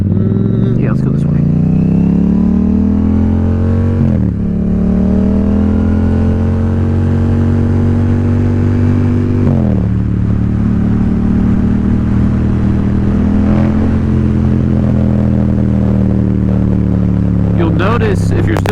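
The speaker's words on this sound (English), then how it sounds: "you'll notice on my downshifts and my decelerations, engine braking, that there's hardly any popping going on with the exhaust" A Yamaha XSR700 motorcycle riding in cold weather, its engine note rising and then dropping sharply on several downshifts and decelerations, with loud steady wind and engine drone throughout.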